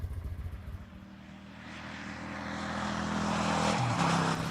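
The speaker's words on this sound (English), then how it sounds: "What does it sound like? Well, it's a V-twin" A Kawasaki Drifter 800 V-twin motorcycle engine gives a soft, low rumble that rises gradually from a gentle idle-like pulse to a fuller, steady drone, fairly quiet and heard without talk.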